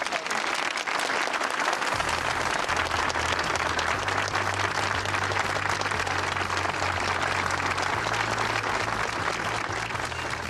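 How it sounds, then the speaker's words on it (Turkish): Sustained, loud applause from a crowd of hospital staff clapping in protest, a thick continuous roar of clapping that holds steady throughout, with a low hum running underneath. "bütün arkadaşlarımızı kocaman bir alkışla bu durumu protesto"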